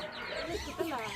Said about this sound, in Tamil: கோழி விரட்டுற ஆளுகளை பாரு.